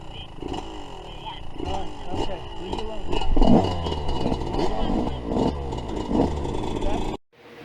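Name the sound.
Yamaha YZ125 two-stroke dirt bike with Pro Circuit pipe riding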